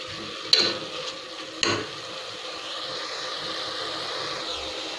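Soy chunks (meal maker) sautéing in masala in a pan, a steady soft sizzle throughout with two sharp stirring clinks near the start, no talking.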